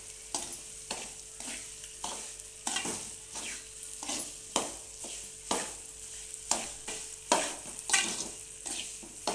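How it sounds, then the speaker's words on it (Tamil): Food frying in hot oil with a continuous sizzle, punctuated by regular scraping stirs roughly every second, close and fairly loud with no talking. "இந்த மாதிரி நல்லா எண்ணெயிலே பொரியணும்"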